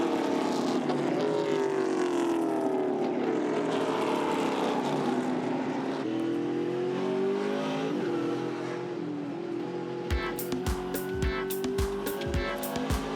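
Trans Am race cars at Sydney Motorsport Park, a continuous loud engine roar with shifting pitch as cars pass, then a sharper run of rapid gear-change bursts near the end.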